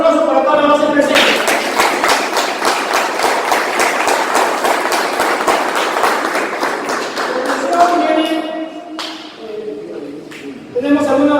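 A Perú Libre party audience claps for about eight seconds, a steady, closely spaced run of claps that fades out before a voice resumes speaking.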